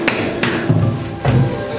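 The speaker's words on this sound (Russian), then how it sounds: "Слышит малый, что кто-то постучался к ним в ворота." Knocks on a gate in a children's stage play, a few dull wooden thuds spaced across a second or two, close and fairly loud over room noise.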